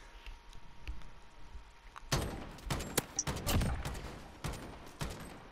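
Bursts of powerful gunfire from a squad-based shooter video game crack in short, uneven volleys, with a few sharp shots standing out and a quieter stretch before them.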